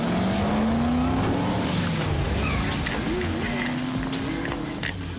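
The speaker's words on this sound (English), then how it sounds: "the truck charges, knocks over a motorcycle, and runs over its wheel." Truck charging across and running over a motorcycle: a loud revving engine that rises and falls in pitch, with tire noise and scattered clunks, continuous and close, with faint voices underneath.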